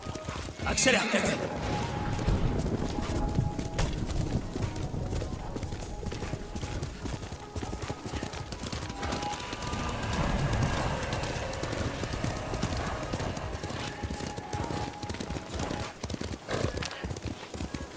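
A horse gallops in the Ghost of Tsushima video game, with steady clip-clopping hooves and a brief neigh near the start, all under background game sounds.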